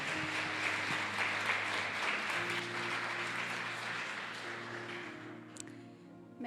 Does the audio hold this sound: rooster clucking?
no